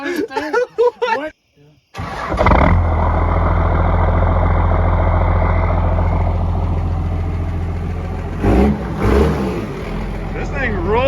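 A first-generation Cummins turbo diesel truck engine, long abandoned, starts after a brief pause and settles into a loud, steady diesel idle with a heavy low rumble, with talking briefly at the start and again near the end.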